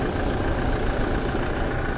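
A warm 2.8-litre diesel engine of a 2015 Toyota Fortuner 4WD automatic idles close by with a steady, low, even rumble that holds unchanged throughout, with no voices.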